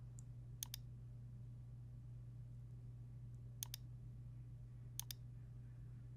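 A computer mouse clicking on a desk while selecting a file in billing software: three quiet double-clicks spaced a second or more apart, over a steady low electrical hum with no talking.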